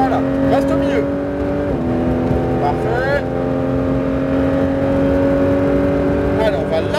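A Porsche 911 GT3 engine screams at high revs on a track at Colmar-Berg, Luxembourg, its pitch dipping and climbing as it accelerates, while someone speaks briefly over it.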